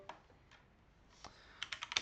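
Keys clacking on a computer keyboard, a few isolated taps followed by a quick burst of close, crisp keystrokes in a quiet room.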